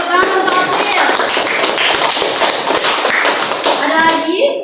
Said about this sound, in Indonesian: Tepuk tangan untuk April.